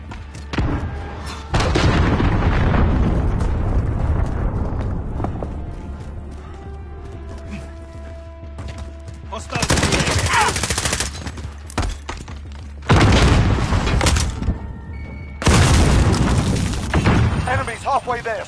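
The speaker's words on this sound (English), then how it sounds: "Enemy cruise missile incoming." Cruise missile strikes in Call of Duty Modern Warfare multiplayer: several heavy booming explosions burst out in separate loud waves, with crackling gunfire and rumbling debris between them and voices talking over the battle.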